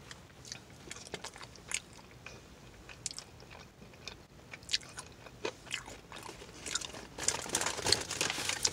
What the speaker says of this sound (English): I'll try the bacon on its own.